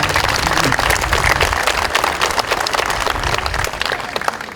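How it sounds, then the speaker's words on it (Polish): A large outdoor crowd at a police school open day applauds loudly and continuously, a dense, even wash of clapping throughout. "Ogromne brawa."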